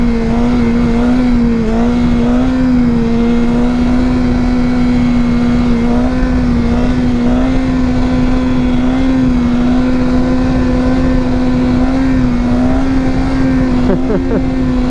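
BMW S1000RR motorcycle engine held at a steady high drone during a wheelie, loud and close with constant wind rush, the pitch wavering slightly, then a quick rise near the end.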